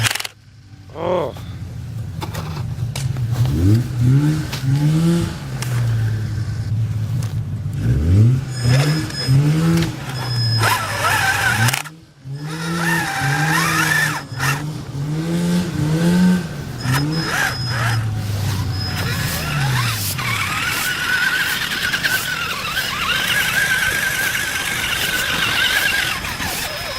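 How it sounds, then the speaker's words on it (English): Traxxas Summit RC truck driving in snow with its pinion gear skipping, giving repeated rising whines and clattering bursts against a steady motor drone, close and fairly loud throughout. "that could be the pinion skipping"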